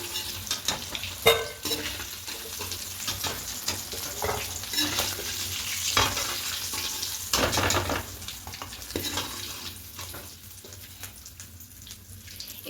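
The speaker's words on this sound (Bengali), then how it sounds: "আলুটা ভাজা হয়ে গেলে তুলে নেব।" Potatoes frying in a wok (kadai) for chicken biryani give a steady, fairly faint sizzle, with occasional louder crackles and stirring scrapes and no speech.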